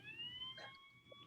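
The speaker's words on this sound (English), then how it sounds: "That's siren." A short electronic siren sound effect plays at a school committee meeting: a steady, wailing tone, faint and heard alone for just over a second.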